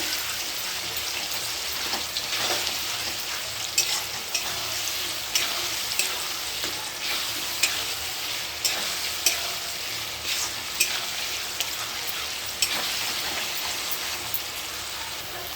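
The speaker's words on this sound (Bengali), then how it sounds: "ভালো করে কষে নেব যতক্ষণ কাঁচা গন্ধ না যাবে" Spice paste for mutton curry sizzles steadily in hot oil while being stirred and scraped with regular clicks of a spoon against the pan, close and continuous throughout with no voices.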